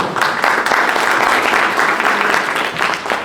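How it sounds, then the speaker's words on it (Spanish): An audience at a Colombian labour-reform forum applauds a speaker, Doctor Torrado, with steady, dense clapping that stays loud and even throughout. "Un aplauso para el doctor Torrado, por favor."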